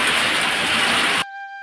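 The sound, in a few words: heavy rain with small hailstones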